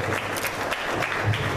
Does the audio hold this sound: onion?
no